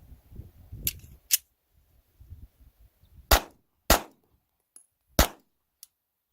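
A budget pistol fires during a shooting test: several sharp, loud reports come at irregular intervals, with quieter clicks and handling noises between them and a couple of faint snaps near the end.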